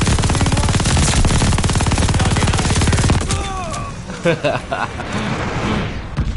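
MG42 machine gun firing in Call of Duty: Vanguard, a rapid, loud burst of continuous gunfire for about three seconds, then trailing off into scattered booms and excited shouting voices.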